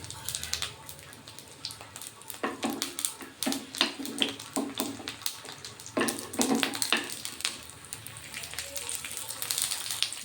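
Prawns wrapped in bottle gourd leaves sizzle and crackle in a pan, a steady near hiss with bursts of spattering as the parcels are turned, while a person talks over it.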